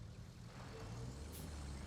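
Truck engine rumbling steadily in the RoadCraft video game, with a short hiss of air brake partway through, continuous and fairly loud with no talk.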